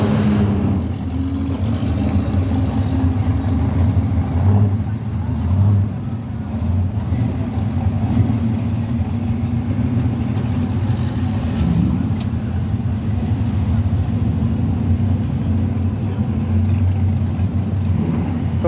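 Muscle cars pulling out of a car show, a dense, steady low rumble of several V8-style engines idling and rolling past at moderate distance, with occasional swells as one revs, continuous throughout without voices.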